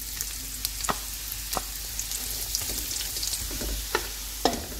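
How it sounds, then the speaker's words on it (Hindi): Carrots frying in oil in a pan for Kabuli pulao, with a steady soft sizzle broken by a few sharp scraping clicks as the pieces are stirred. "अभी हम गाजरों को फ्राई कर लेते हैं।"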